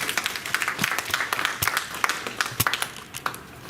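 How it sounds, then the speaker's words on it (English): Applause from an audience at a 2018 town hall event fills the whole stretch as a dense, steady patter of many hands, with a few sharper individual claps standing out. "Please give yourself a round of applause."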